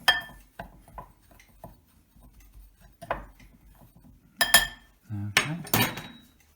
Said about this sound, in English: Now what I'm just going to do again is just mix these together